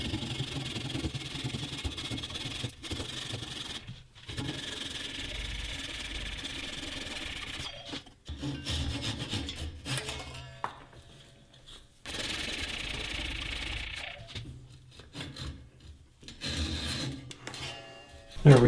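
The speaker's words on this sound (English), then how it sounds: "I just was cutting it right off with the handsaw" A handsaw cuts a wooden ornament off the lathe, rasping back-and-forth strokes at a steady rhythm, fairly faint and close, interrupted by short pauses, with no voices.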